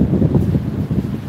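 Wind blows outdoors on a street, a loud, steady rumbling gust buffeting the microphone with low fluttering pulses, with no voices over it.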